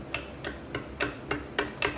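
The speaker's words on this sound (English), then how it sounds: "So I just want to go through here and knock this on with my trusty hammer and punch." A hammer and punch tap a gear onto the tapered pinion shaft of a 1970–1984 Harley-Davidson Shovelhead bottom end, six sharp metallic strikes at a steady rhythm, close and clear with no talking.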